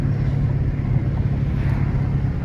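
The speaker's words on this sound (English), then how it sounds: "So y'all can hear the car." A Dodge Scat Pack cruises with the window and sunroof open, a steady low engine drone mixed with rushing wind noise, continuous and fairly loud with no voices.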